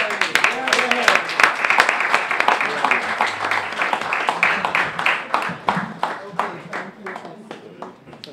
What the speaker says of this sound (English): Whether or not you can hear me, I am going to clap